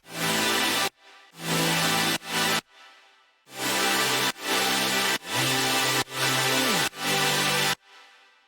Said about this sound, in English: Okay, so I found another pad for it.